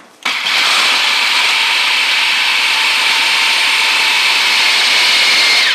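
A blender whizzes a ragi pancake batter containing flax seeds, switching on abruptly and then running with a loud, steady high-pitched whirr for several seconds, with no talking.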